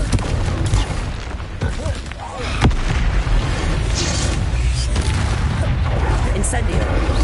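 Confringo blasting spell explosions in Hogwarts Legacy, dense booming bursts over a constant roar of game effects, with a sharp loud blast near the middle and a voice speaking over the action.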